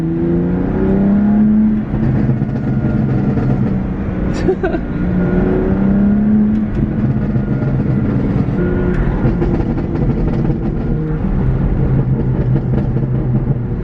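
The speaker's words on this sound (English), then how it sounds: "That literally sounds spot on, exactly like OEM Burbles." BMW F80 M3 driven in sport mode with a Bootmod3 burble tune, its exhaust droning steadily through downshifts and lap driving, with crackling burbles scattered over the continuous engine rumble.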